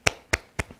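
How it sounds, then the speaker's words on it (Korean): Four sharp, sparse claps ring out one by one in a church youth service, evenly spaced and fairly faint, more like a single pair of hands than a full round of applause. "우리 하나님께 우리 박수로 감사의 영광을 드리겠습니다."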